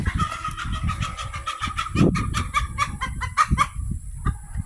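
Young pullets cluck and chatter in repeated short calls, close by and steady, with a soft breezy rumble of wind underneath and no talk.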